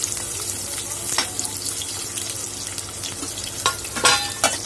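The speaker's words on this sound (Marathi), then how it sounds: "बारीक शिरलेला कांदा घालून घेणार आहोत आपण यात" Finely chopped onion hitting hot oil in a pan while shrimp and fish curry is cooked, giving a steady close sizzle with a few sharper crackling bursts and clinks.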